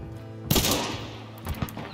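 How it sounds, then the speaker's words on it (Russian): Gunshots ring out in the video game Hunt: Showdown, one loud sudden blast followed by echoing decay and a couple of fainter shots. "Это ты стреляешь по нему? Да, я стреляю."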